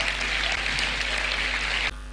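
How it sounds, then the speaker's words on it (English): A conference hall audience at a tech event claps for a few seconds, a steady, moderately distant patter under a low hum, then it cuts off abruptly near the end. "Please, let's put our hands together for GDG, Port Harcourt, and GDG Cloud."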